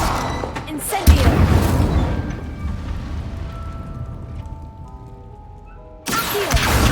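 An Incendio fire spell cast in the video game Hogwarts Legacy bursts out with a loud whooshing boom, then fades into a sustained roar. A second sharp blast erupts near the end.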